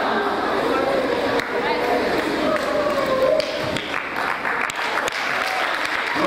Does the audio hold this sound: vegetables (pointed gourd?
no